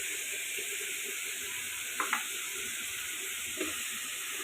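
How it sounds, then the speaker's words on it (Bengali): Red amaranth leaves with a pinch of salt fry in a pan, giving a steady, even sizzle throughout, with a couple of light scraping knocks from a stirring spoon and no talk. "তো এটা আরেকটু ভাজতে থাকি স্মেল আসা পর্যন্ত।"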